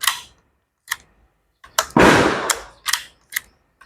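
A CZ 457 Jaguar rifle fired outdoors, several sharp close cracks spaced irregularly with one longer, louder blast ringing out in the middle.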